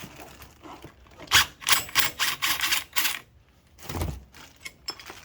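A 1/2 inch wrench works a nut loose on a John Deere riding mower's Tuff Torque hydrostatic transmission, giving quick clustered metallic clicks and ratcheting taps with short pauses between bursts.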